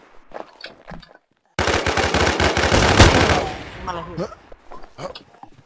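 Rapid automatic gunfire from the online survival shooter Infestation, a loud dense burst of shots lasting about two seconds, with Thai-speaking players talking quietly before and after it.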